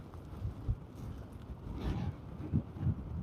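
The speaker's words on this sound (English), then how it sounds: "Pretty serious wind right now." Strong gusting wind during a storm on Lake Superior at Duluth, Minnesota, buffeting the microphone with low rumbling roars and sharper gust peaks, steady and loud throughout.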